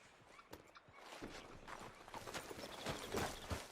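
In the Red Dead Redemption 2 video game, horse hooves clip-clop at a steady walk with faint ambient sound around them and no talking.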